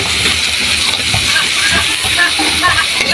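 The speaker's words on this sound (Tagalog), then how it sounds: "Gisa-gisa lang po natin." Ground beef sautéing in a pan with squash and chayote gives a steady, loud, hissing sizzle that runs without a break from start to finish.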